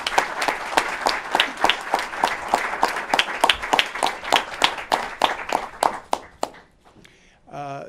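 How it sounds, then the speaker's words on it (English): Crowd in New York applauds at a governor's COVID-19 announcement, with loud, sustained clapping in a quick, uneven rhythm for about six seconds before stopping, then a voice begins to speak. "Let's give everyone a round of applause."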